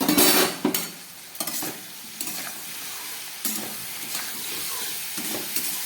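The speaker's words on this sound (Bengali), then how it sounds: "ভাজতে ভাজতে সবজিগুলো প্রায় কষে গেছে, সিদ্ধ হয়ে গেছে" Potato, ridge gourd and vegetable stems fry in a pan while being stirred. A loud sizzling hiss opens, then a steady frying crackle continues with scraping stirs up close, with no talking.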